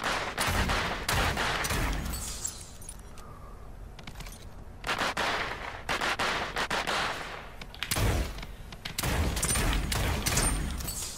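Bursts of rapid automatic gunfire in the Realm Royale shooter game come in loud clusters, with a brief quieter stretch between volleys.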